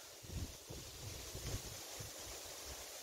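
Strong wind buffets a microphone outdoors in a garden planting area, a steady low rumble with irregular gusty thumps throughout and no voices.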